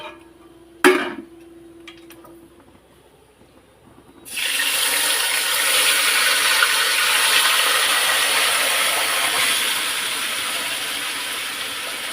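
Meat going into a hot pan for biryani, after a sharp clank, then a sudden loud, steady hiss of sizzling oil that continues without a break.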